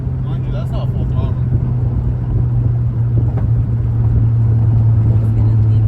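A car engine pulls at moderate, partial throttle during a nighttime drive, a steady low drone holding near and loud under road rumble for the whole stretch, with faint talk in the cabin.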